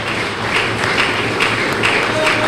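Applause in a provincial assembly session in Kinshasa, a dense continuous wash of many hands clapping, loud and sustained throughout.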